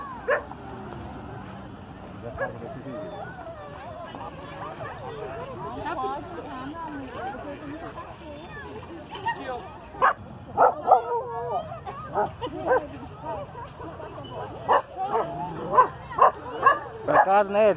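Several dogs bark and yip intermittently in an open-air dog park in Pinhais, Brazil, getting busier toward the end, while people talk nearby.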